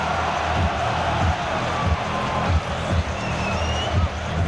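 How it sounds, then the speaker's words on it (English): A huge crowd roars and cheers inside Wembley Stadium at a heavyweight boxing match, a dense, steady wall of noise with rhythmic low swells, and a commentator talking over it. "listen to the crowd loving this heavyweight spectacle here at Wembley Stadium"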